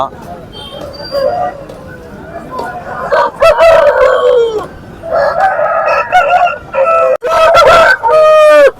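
Several roosters crow repeatedly at a busy chicken market, loud and near with cackling between calls, while people talk throughout.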